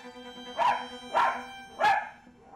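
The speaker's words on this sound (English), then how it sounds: "He barks all the time" A rescue dachshund barks three times in a steady, evenly spaced rhythm, each bark sharp and close against a quiet background.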